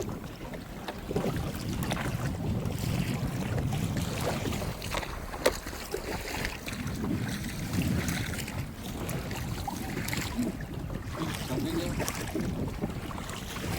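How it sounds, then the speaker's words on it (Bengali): Storm wind buffets a rowboat on a river during a rainstorm, a continuous low roar with gusts and wind noise on the microphone. Water sloshes faintly and occasional thumps sound from the boat. "আর এসেই আজকে এই ঝড় বৃষ্টির মধ্যে পড়ে গেল"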